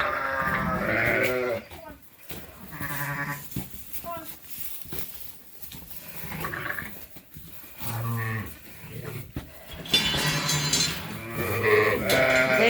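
Sheep on a sheep farm bleat repeatedly in short, loud bursts at close range, mixed with people talking and handling noise.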